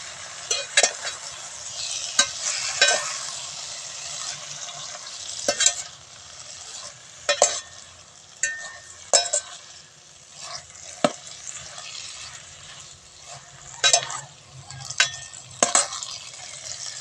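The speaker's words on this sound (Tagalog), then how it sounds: "Kapag malapit ng maluto ang ating gulay, lalagay naman natin yung oyster sauce." Kangkong and tofu stir-fried in a pan with oyster sauce: a steady sizzle runs throughout, broken by repeated scraping stirs and utensil clatter at irregular intervals, with no voices.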